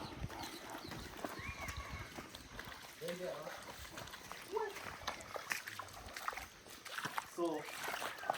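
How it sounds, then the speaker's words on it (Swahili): Footsteps splashing through standing water at a house under construction, a few irregular wet slaps and sloshes close by, under someone talking. "Acha tukanyange hapa maji."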